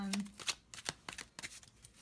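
A laminated tarot deck being riffled and shuffled by hand, giving quick crisp card flicks in a rapid irregular rhythm, close and clear.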